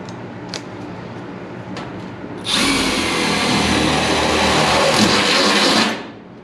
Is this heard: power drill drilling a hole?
yes